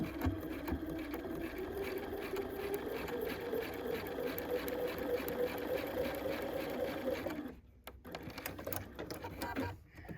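A sewing machine runs in one steady, continuous burst while stitching a quilt block for a 1930s sampler, close and fairly loud, then stops abruptly with a few small clicks and handling noises afterward.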